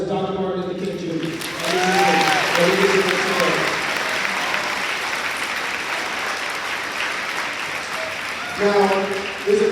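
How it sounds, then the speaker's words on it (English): An audience of students at a middle and high school MLK keynote applauds after Dr. Martin Luther King Jr.'s words, a broad sustained roar of clapping that swells after a brief start of speech and tapers as talking resumes. "Give a round of applause for the words of Dr. Martin Luther King Jr."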